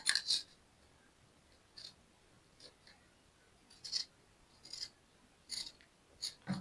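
Scissors snip fabric seam allowance around a sewn cowl neckline, a series of quiet, crisp cuts spaced irregularly, close up with no talking.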